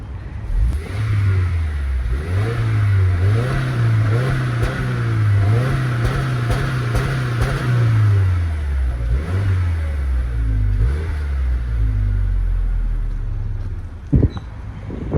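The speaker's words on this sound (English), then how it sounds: "We'll do like a little exhaust sound check." A 2023 Subaru WRX TS twin exhaust revs repeatedly, the engine rising and falling in a series of throaty blips, then settling to idle, ending with a brief clunk.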